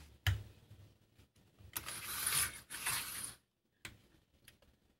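JUKI industrial sewing machine stitching backpack straps, heard close as mechanical whirring bursts of stitching separated by sharp clicks and short pauses.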